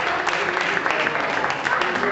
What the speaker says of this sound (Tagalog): Palakpak po para kay Sir Emmy.